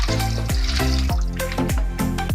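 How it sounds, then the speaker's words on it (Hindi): Soaked chana dal and its soaking water poured into a cooking pot already holding meat and water, giving a run of wet splashing and sloshing with repeated gulping pulses, close and fairly loud. "अब हम चने की दाल जो हमने ली थी वो पानी समेत ऐड कर देंगे।"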